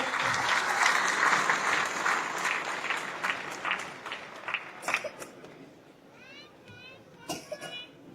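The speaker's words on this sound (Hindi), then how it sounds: "उन सब के लिए जोरदार तालियां एक बार लगाकर उनको धन्यवाद देंगे" Audience applause at a thank-you moment during a community program, loud dense clapping that gradually thins out, followed by scattered voices and children's chatter.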